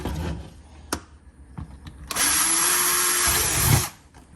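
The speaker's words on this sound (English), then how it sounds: "you're going to use a 1/4 inch drill bit to drill these pilot holes" A power drill with a 1/4 inch bit whirs steadily for about a second and a half boring pilot holes for a Tesla Wall Connector install, preceded by a few short clicks and knocks, fairly close and loud.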